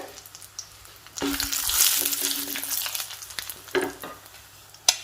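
Urad dal and dried red chillies frying in oil for a chutney, with a sizzle that flares up loudly after a quiet start and stirring clatters scattered across it.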